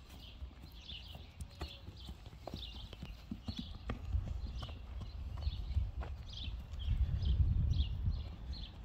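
Hooves of a grullo Criollo horse clip-clop steadily on hard ground at a walking pace, moderately close, with faint outdoor background noise and occasional birds.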